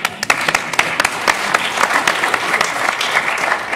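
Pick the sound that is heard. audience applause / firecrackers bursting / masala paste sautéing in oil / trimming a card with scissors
audience applause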